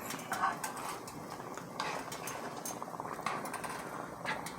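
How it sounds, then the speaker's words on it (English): Puerto Rican rice with beans simmering in a pot, a constant low bubbling with irregular pops and small clicks, close but quiet. "It's bubbling up."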